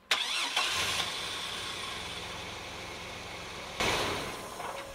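A V6 Chevrolet Astro van engine cranks and catches on a TopDon JS2000 jump starter, then settles into a steady close idle with a brief rev near the end.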